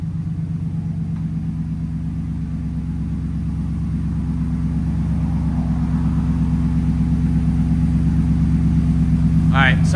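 A deep, steady RAM 6.4L V8 truck engine idle rumbles low and continuous with a faint rhythmic throb, and a brief higher whine appears near the end.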